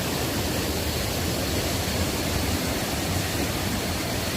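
The Pha Kluai Mai waterfall makes a steady, broadband roar of rushing water, constant and enveloping throughout with no voices.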